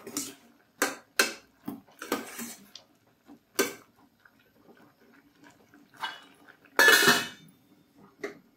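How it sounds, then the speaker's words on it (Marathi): A spoon stirs sprouted moong curry with coconut pieces and chillies in a pot, producing sporadic clinks and scrapes of metal on metal with quiet gaps between them. "चवीपुरते मीठ घालून चांगले ढवळून घेऊया।"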